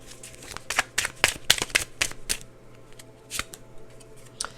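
Index cards shuffled during a card reading, giving a run of crisp, riffling flutters in uneven bursts, fairly close and moderately quiet, with brief pauses between passes.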